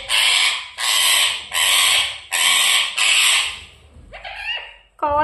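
A pet parrot imitates a crow, letting out four loud, harsh caws in a steady rhythm close by, followed by a few shorter squawks and chirps.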